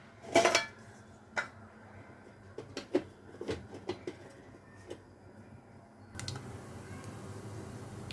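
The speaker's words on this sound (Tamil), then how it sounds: "இப்போ கடுகு பொரியறது" Mustard seeds spluttering in sesame oil in a small heavy cooker on a medium flame: a burst of sharp crackles and pops at the start, then scattered single pops and ticks, with a louder sizzle returning near the end.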